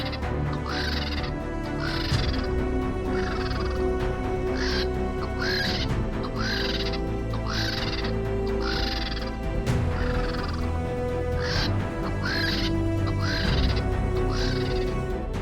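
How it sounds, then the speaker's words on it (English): Vultures crowd and squabble over an abandoned carcass, giving repeated harsh, rasping croaks and caws in clustered bursts roughly every second, close and steady over a dense, noisy wild background with no talk. "When a carcass is left behind or unguarded, vultures descend in numbers."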